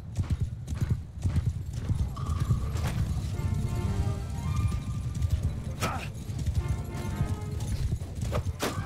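Horses gallop in the medieval battle game Mount & Blade II Bannerlord, with rapid rhythmic hoofbeats, battle noise and brief whinnies blended together, fairly loud and steady across the whole stretch.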